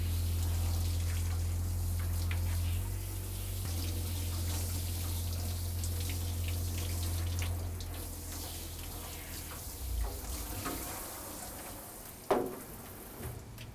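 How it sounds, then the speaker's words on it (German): Warm water runs from a hose at a self-service dog wash, rinsing a dog; a steady close spray with splashing, fading slightly, with a brief knock near the end. "einmal kurz abspülen"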